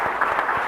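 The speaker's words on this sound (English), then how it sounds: "Please join me in applauding the esteemed guests for the contribution." A conference audience at the Raisina Dialogue 2023 panel applauds the guests: a brief, steady wash of clapping from many hands, close and even, with no voices over it.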